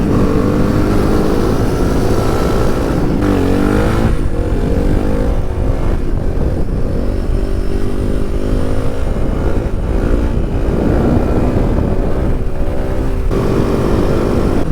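A Suzuki DR 350 dual-sport motorcycle rides along dirt trails on worn tyres, its single-cylinder engine droning loud and steady throughout with shifting revs.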